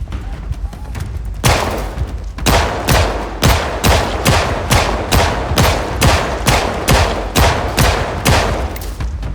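Rapid, loud gunfire from the zombie survival game Project Zomboid, a steady string of evenly spaced heavy shots after a brief lighter burst, each crack booming close and alone.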